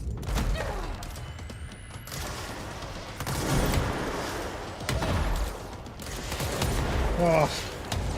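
Launcher weapon firing in the video game Control, a run of heavy booming blasts and thuds rolling on and off across the stretch, with game effects and bursts of distortion, fairly loud and dense.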